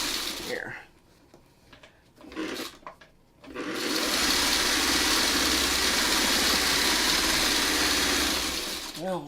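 A sewing machine stitches pattern pieces for a whirligig in one steady, continuous whirring run after a few seconds of quiet talk and handling.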